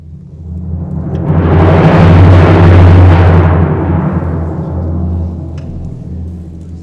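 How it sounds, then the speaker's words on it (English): Orchestral timpani roll that begins soft and swells to a loud, rumbling peak, then eases slightly while sustaining, a continuous low drum rumble with no talking. "Do one of those incredibly exciting rolls that starts quietly and gets louder."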